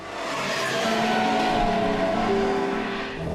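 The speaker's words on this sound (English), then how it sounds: "the roads here were dominated by the rattling of two-stroke engines" A two-stroke car engine, such as an East German Trabant, revs with a buzzy, rattling tone, its pitch rising and falling as it moves nearby, loud and continuous throughout.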